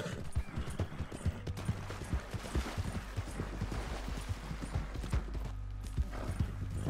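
Horse hooves clip-clop steadily at a riding pace in Red Dead Redemption 2, the close rhythmic thuds continuing throughout with a faint whinny and low rumbling ambience beneath.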